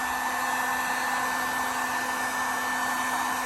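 A heat gun blows a steady, loud airflow over vinyl wrap on a car door handle, an unbroken even hiss with a faint constant hum and no voices.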